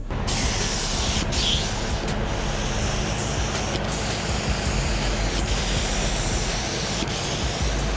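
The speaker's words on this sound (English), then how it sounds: "she's spraying like she has no pressure" A spray gun sprays primer on a forklift, hissing continuously and loudly, a broad airy rush with brief breaks, close up, spraying as if low on pressure.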